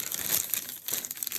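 Close, brief crinkling of plastic wrap being torn open around a boxed ThreeZero Robo-Dou Evangelion Test Type-01 figure, in two or three quick crunchy bursts.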